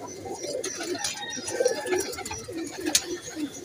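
Pigeons coo softly in repeated low, throaty phrases, with faint chirps and ambient noise around them.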